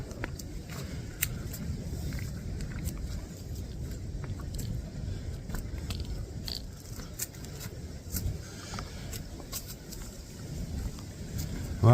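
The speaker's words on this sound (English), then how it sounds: "It's so windy I can't hear anything in the woods other than the woods themselves whipping in the wind." Steady rushing wind whipping through woods in a city park fills the recording, with broadband gusty noise and faint rustling and clicks throughout, no voices.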